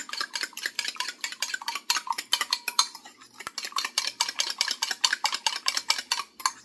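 Egg beaten briskly with a utensil in a bowl for a bang bang shrimp batter, a fast, even run of clattering taps against the sides, close and loud, with one brief pause midway.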